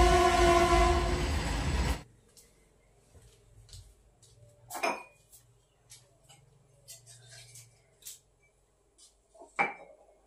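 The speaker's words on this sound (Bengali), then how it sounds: "ওইদিকে ওই যে ট্রেন চলে আসলো" A train rumbles loudly nearby for about two seconds on a cold morning, then gives way to quiet with scattered clinks of dishes being washed.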